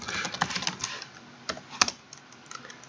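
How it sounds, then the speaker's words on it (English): Rapid, uneven key clicks from a laptop keyboard, close and moderately loud, with a few sharper taps standing out and no talking. "This is a difficult laptop to type on."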